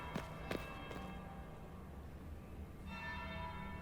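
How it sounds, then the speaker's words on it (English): Church bell in Dragon Age: Inquisition rings faintly in the distance with a few soft strikes, amid a quiet ambient game background and light footstep-like taps. "That's the bell."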